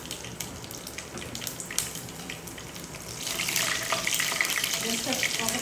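Curry leaves and green chillies hit hot oil partway through, bringing a louder, steady sizzle and crackle that builds over quieter kitchen clatter and water-like noise.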